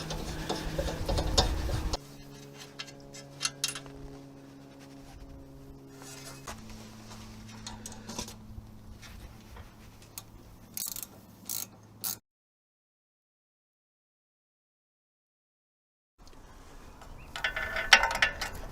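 An 8mm threaded rod with two nuts locked on is screwed into the hub of a Citroen Relay van's rear brake, and clips are fitted. Close ratchet-like clicks and ticks ride over a steady low hum, then stop for a few seconds of silence.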